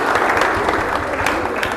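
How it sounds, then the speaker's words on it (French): Schoolgirls at Saint-Louis's Ahmed Fall girls' lycée cheer and applaud writer Louis Camara, a close, loud burst of dense clapping mixed with shouts, continuous through a short moment. "Ces acclamations des élèves du lycée Ahmed Fall des jeunes filles de Saint-Louis vont à l'endroit de l'écrivain Louis Camara"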